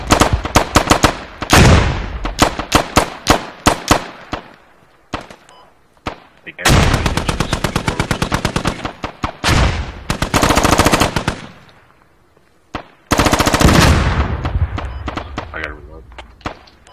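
Loud bursts of automatic machine gun fire and single gunshots in the Squad military shooter, set on the Chora Valley map. Long rattling strings come in several separate bursts with short pauses, and players talk over the shooting at times.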